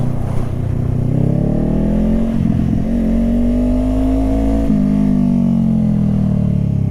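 A loud motorcycle engine drones steadily up close while riding, its pitch rising gradually and then easing as the throttle changes, with a brief clattery patch midway. No one speaks.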